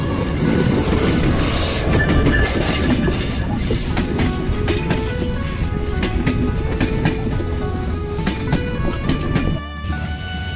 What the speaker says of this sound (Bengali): আন্তনগর চিলাহাটি এক্সপ্রেস ছয় হাজার ছয়শো বিশ লোকোমোটিভ নিয়ে ঈশ্বরদী বাইপাস স্টেশনে সকাল এগারোটা দশ মিনিটে চল্লিশ মিনিট বিলম্বে প্রবেশ করল